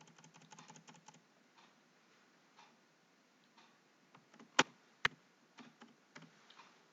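Typing on a computer keyboard while writing HTML code: faint scattered key clicks, with a few louder isolated taps, in a quiet room.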